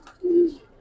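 A single short, low coo from a pigeon among a pair of young pankhi and silver pigeons, close and soft, lasting under half a second.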